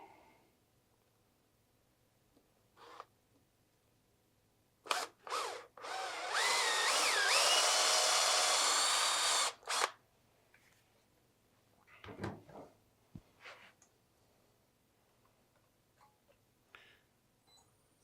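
Power drill boring into a wooden bowl blank on a lathe to set a screw center chuck, a sustained loud whine lasting about five seconds, framed by short clicks and tool handling in a quiet workshop.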